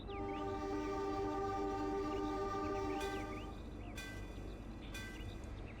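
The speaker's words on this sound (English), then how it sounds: "Completely wrong horn, and has a bell for some reason, even though this train is Japanese" Train horn and bell of a Japanese EMU train in Trainz Simulator 3, a sustained chordal horn blast followed by repeated bell strikes ringing out at steady intervals over a low rumbling background, fairly quiet overall.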